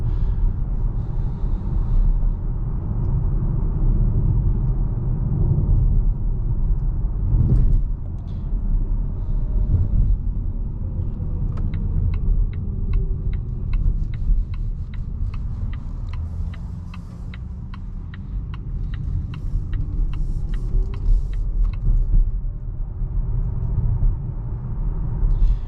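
Cabin of a 2023 Volvo C40 Recharge electric car accelerating on the road, a steady low rumble of tyre and road noise with a faint ticking turn signal partway through, no talking.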